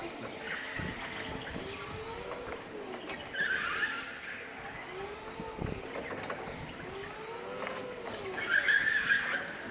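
A Baoli KBE25 electric forklift driving a slalom after a short straight run, a quiet whining drive hum with rising and falling tones and faint tyre squeaks as it steers, heard close with no talk.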